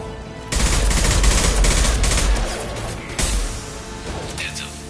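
Rifle fire in the video game Mass Effect 2, a dense, loud burst of rapid gunfire lasting several seconds over continuous combat noise, with voices talking underneath.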